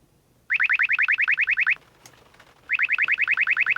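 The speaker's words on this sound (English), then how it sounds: "the detector will begin resuming beeping immediately as soon as it's done talking and announcing the frequency display" A Uniden R1/R3 radar detector gives two bursts of rapid, evenly spaced chirping alert beeps, each about a second long, loud and close, separated by a short quiet gap with a faint click.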